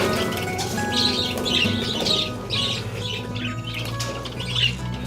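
Hundreds of parakeets held in a cage flap their wings in repeated rustling bursts, mixed with busy chirping and tweeting close by.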